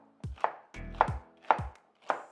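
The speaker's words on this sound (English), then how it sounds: "Big chops, quick and easy." A knife chops through celery on a cutting board in four firm, evenly spaced cuts, each a crisp crunch ending in a thud against the board, close and with no voices.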